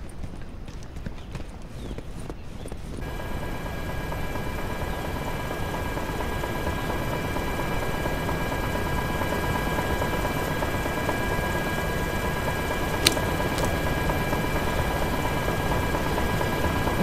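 A helicopter arrives in the video game Direct Contact, its rotor thumping in a steady rapid beat under a constant high whine that holds loud and unchanging for the rest of the clip.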